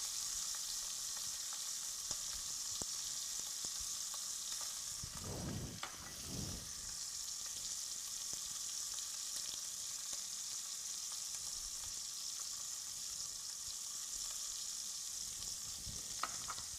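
Short ribs searing in a hot pan, a steady bright sizzle and crackle running throughout, with a couple of louder clunks and stirs of the meat partway through.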